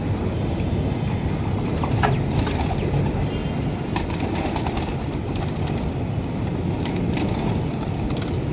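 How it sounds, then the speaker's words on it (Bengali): Pigeons released from a small home loft take flight, giving a steady bed of fluttering wings and soft cooing, with a faint rumble of nearby traffic or rail noise behind, continuous and fairly close throughout. "তো কবুতরগুলি ও এখন ছাড়তেছে,"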